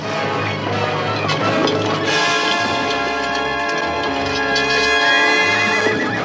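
A horse lets out a long, loud whinny, close and shrill, rising and trembling over several seconds amid a busy background.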